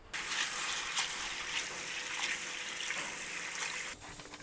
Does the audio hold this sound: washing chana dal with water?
yes